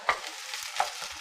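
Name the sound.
onions and green peppers sautéing in oil in a hot pan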